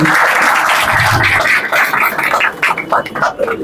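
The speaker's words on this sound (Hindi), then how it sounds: "आप अपनी तालियों की गूंज से इनका स्वागत करिए।" An audience claps steadily to welcome a guest onto the stage at a public gathering, with dense applause filling the hall and thinning slightly toward the end.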